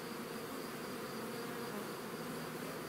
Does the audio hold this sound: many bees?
yes